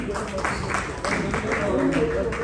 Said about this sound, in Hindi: जोर से एक बार ताली बजाइए।